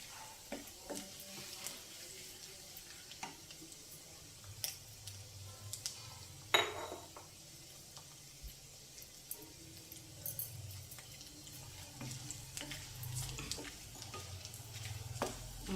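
Pieces of okra (bhindi) frying in a pan, a steady low sizzle with occasional sharp clinks and scrapes of a utensil against the pan, fairly quiet and without talking.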